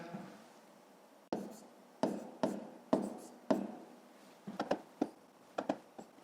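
Pen writing numbers by hand on paper while working long division in a fifth-grade maths exercise, a series of short scratchy strokes and taps in bursts, close and fairly quiet, alone without talk.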